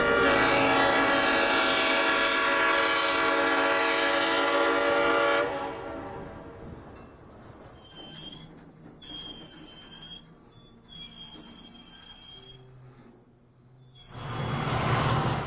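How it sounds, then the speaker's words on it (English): A bicentennial-painted diesel locomotive, number 1776, hauls a train onto the High Line, its loud engine drone with a horn blast giving way to quieter rolling rail noise, wheel squeal and clanks, before the engine swells again. "The 1776 swings onto the High Line at Ketty"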